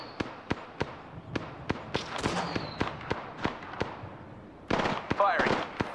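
Rapid video-game gunfire cracks out in a steady stream of sharp, evenly spaced shots, some close and loud and others fainter, growing denser near the end, with brief character voices heard over the firing.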